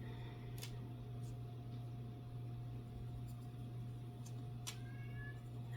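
A pet cat meows outside closed glass doors wanting to be let in, several short faint calls spaced apart over a steady low mechanical hum indoors.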